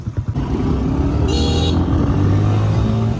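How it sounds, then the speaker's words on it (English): A motor engine running steadily up close, a low rumbling drone with a brief higher whine partway through, no voices. "we need to take this motorbike"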